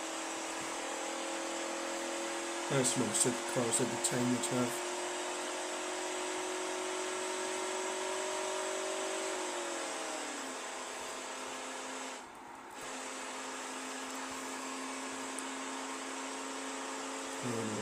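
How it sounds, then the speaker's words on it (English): A V8 car engine in the driving game BeamNG.drive hums as a steady, moderately faint whine with gear-shift pitch changes and a brief dip, while someone talks briefly over it. "by the sounds of it, it does have a V8"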